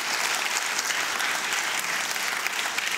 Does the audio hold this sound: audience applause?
yes